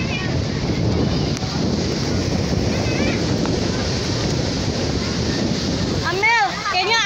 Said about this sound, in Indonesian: Angin doang kayaknya.